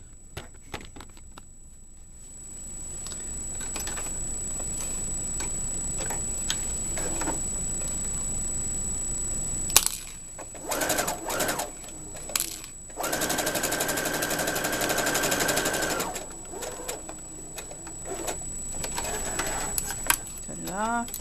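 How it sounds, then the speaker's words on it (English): A domestic sewing machine stitches quilted fabric coasters with a fast, steady mechanical whirr and ticking, running in long bursts and pausing briefly before starting again. "sewing machine."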